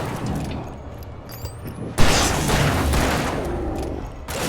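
Gunfire from the video game Alan Wake Remastered, a sudden loud burst of shots erupting about halfway through and rattling on densely over a dark game ambience until the end.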